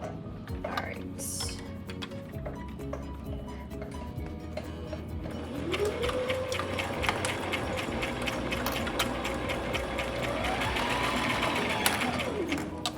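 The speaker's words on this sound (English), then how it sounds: "we're just gonna sew straight down until about halfway down our fabric" A sewing machine stitches a straight seam down a length of fabric, its fast, steady mechanical chatter running close and continuous throughout, with a brief speed-up whir partway through.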